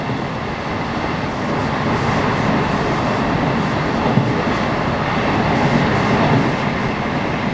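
An Italian passenger train runs steadily along the rails, a dense continuous rumble with faint rhythmic clatter from inside the carriage, no voices.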